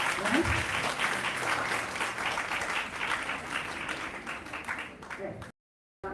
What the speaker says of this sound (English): So big round of applause for everyone of you, right?